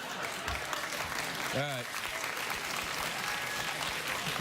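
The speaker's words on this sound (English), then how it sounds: "You're just clapping to shut me up." A studio audience at a late-night talk show claps in sustained, loud applause, with someone briefly speaking over it midway.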